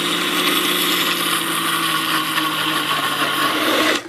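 An electric blender grinds a Goan curry paste of dried shrimp, sugar and pungent vinegar, a loud steady whirring drone that runs without pause and cuts off abruptly at the end.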